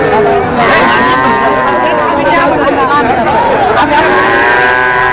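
A dairy cow lows with drawn-out moos at a village livestock market in Manikganj, Bangladesh, heard close amid constant people's conversation and crowd chatter.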